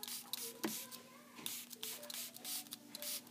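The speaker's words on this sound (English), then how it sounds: "we're gonna spray some water on it." Several quick hissing spritzes from a spray bottle, close and fairly soft, separated by brief pauses and small handling noises.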